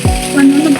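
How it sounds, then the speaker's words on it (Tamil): Mustard seeds hit hot oil for a chicken curry with a brief, close sizzle and crackle lasting under a second. "கடுகு கொஞ்சம் போட்டுக்கலாம்."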